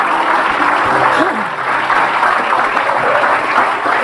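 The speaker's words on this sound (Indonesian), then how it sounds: "kita kasih tepuk tangan dulu lah ya, luar biasa nih" A studio audience on an Indonesian talk show bursts into dense, steady applause that fills the whole stretch, with a voice faintly audible beneath it.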